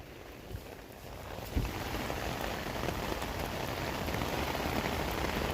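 Heavy rain falling on a park, a dense steady hiss of drops hitting surfaces, close and continuous, with a small knock just before it swells slightly.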